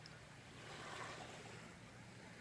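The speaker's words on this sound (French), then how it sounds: "Écoutez la mélodie des vagues douces qui vont et qui viennent." Gentle ocean waves wash steadily against a sandy shore, a soft continuous hiss of surf that swells slightly and then eases, with no voices.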